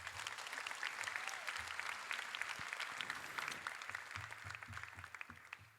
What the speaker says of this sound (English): Another round of applause for Nicole McLean